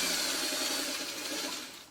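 A sewing machine stitches a leader ender scrap at the end of a quilting row, a fast, steady whirring rattle close by that runs continuously and eases off slightly at the very end.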